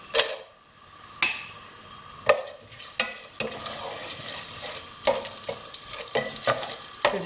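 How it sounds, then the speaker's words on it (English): Chopped nuts toasting in a pan for shemai, a Bangladeshi vermicelli pudding, give sharp stirring scrapes and clacks against a soft frying sizzle, in irregular bursts close by. "I'm going to toast the nuts for about"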